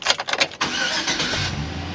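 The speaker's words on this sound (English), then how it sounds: "our car starts up." A car engine cranks over with a few quick starter pulses, then catches and settles into a steady, fairly loud idle; the fuel pump was running just before ignition.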